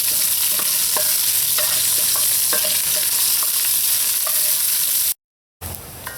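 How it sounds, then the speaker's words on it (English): Onion and curry leaves frying in hot oil for a chicken curry, a loud continuous sizzle with scattered sharp pops and crackles, briefly cut out near the end before resuming. "add in your onion and your curry leaves. Be careful because those curry leaves tend to pitch when you add it to the hot oil."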